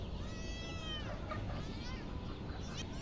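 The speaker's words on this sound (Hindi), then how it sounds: "ये बिल्ली अच्छी है, आओ बिल्ली आओ" A cat meows a few times at moderate distance over a noisy outdoor background with some talk, on a farm-style setting with a charpai nearby.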